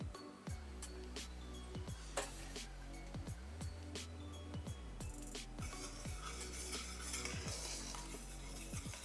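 Sugar melting into caramel in a pan with butter and milk, stirred steadily: soft repeated scraping and clinks of a utensil against the pan over a faint low hum, close and moderately loud, no talk.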